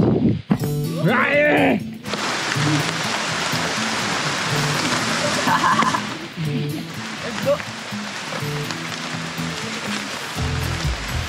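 Steady rain falling on wet, slippery ground along an uphill trail, a broad continuous hiss with scattered thumps and footsteps, while people talk over it near the start.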